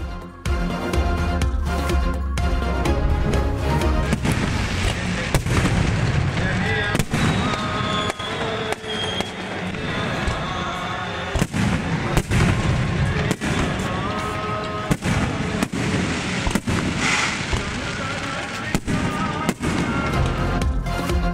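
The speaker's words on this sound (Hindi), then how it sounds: "आतिशबाजी का शानदार मुजाहिरा" Fireworks during the Guru Nanak birthday celebration at Nankana Sahib crackle and boom continuously, with sharp repeated bangs over a dense, loud roar of bursts and crowd noise.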